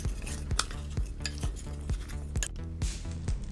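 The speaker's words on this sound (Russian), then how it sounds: "соль, перец, кориандр, подсолнечное масло и хорошо перемешиваем" A spoon scrapes and clinks in a bowl in a steady rhythm, mixing potatoes and mushrooms with salt, pepper, coriander and sunflower oil. The strokes come about twice a second, close and clear, with no talk.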